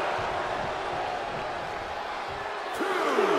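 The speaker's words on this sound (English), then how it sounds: "The crowd is fired up." Crowd noise from the WWE 2K24 wrestling video game, Drew Gulak vs. Tyler Bate main event, forms a steady, dense arena roar, rising slightly near the end with a single dull impact thud.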